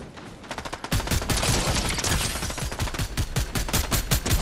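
Fast, loud automatic gunfire in the Fortnite video game, rapid evenly spaced shots building into a near-continuous barrage after a brief lighter opening burst, close and dominant.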